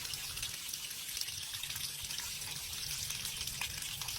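A Samsung top-loader washing machine, fitted with a replacement water pump, draining: a continuous, fairly quiet rush of flowing water with no talking.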